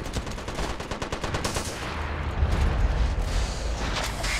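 Game combat in the shooter MAG: rapid machine-gun fire rattles in fast bursts, then gives way to rumbling booms from an artillery strike that keep going to the end, loud and without speech.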